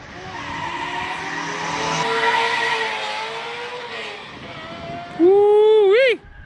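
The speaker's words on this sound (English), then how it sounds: "Here we go, the little MG crosses the line" A classic MG races past at a classic car speed event in Cape Town, its engine roaring loudly and close. The pitch climbs and then swells into a sharp, high-revving burst just before it cuts off.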